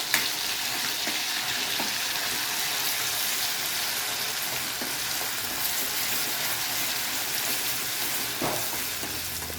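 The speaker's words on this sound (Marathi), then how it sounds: "त्यानंतर हिरवं वाटण टाकून घ्यायचं. छान परतवायचं." Green masala paste with bay leaf sizzles and fries steadily in hot oil, a dense continuous crackle with occasional stirring clinks, close and loud throughout.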